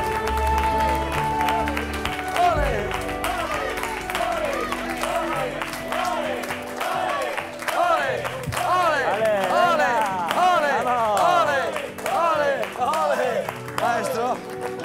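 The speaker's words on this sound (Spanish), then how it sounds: "¡Fuerte aplauso en pie! ¡Más fuerte ese aplauso!" A TV studio audience breaks into loud, sustained applause and clapping that swells and continues for several seconds, with a presenter's voice heard over it at the start.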